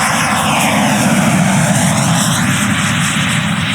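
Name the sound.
electric ducted fan jet motor running at high power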